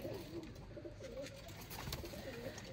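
A pet pigeon coos in soft, low, rolling phrases, close by and steady over a quiet background hum, with no voices.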